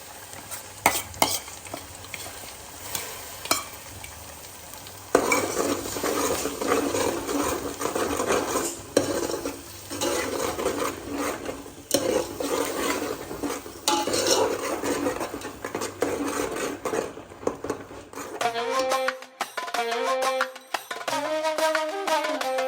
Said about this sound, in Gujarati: એડ કરીશું ડુંગળી ટામેટાની ગ્રેવી